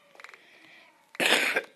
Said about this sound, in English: Sorry about that cough.